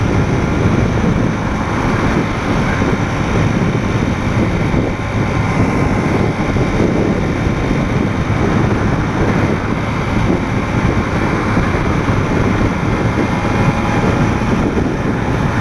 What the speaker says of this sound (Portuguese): Ventando muito, não é época de vento e tá ventando.